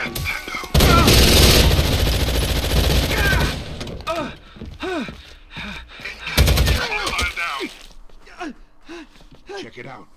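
SMG11 submachine gun fire in Rainbow Six Vegas 2, a loud close burst early on, followed by scattered shots and impacts while someone talks over it.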